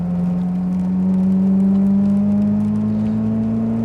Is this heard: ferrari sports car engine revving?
yes